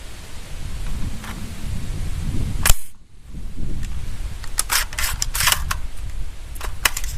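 An AR-15 rifle action is worked while testing the magazine catch, making sharp metallic clacks and a cluster of quick clicks and rattles close to the microphone over a hiss of background noise.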